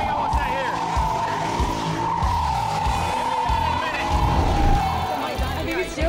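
A car engine holds a high, steady whine at speed on a race track, with tires squealing and road noise underneath.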